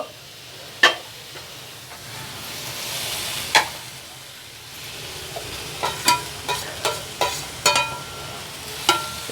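Fresh hyacinth beans are tipped into onion and green chili frying in a pan, giving a low continuous sizzle. Sharp scraping stir strokes come at intervals, then bunch into a quick run near the end.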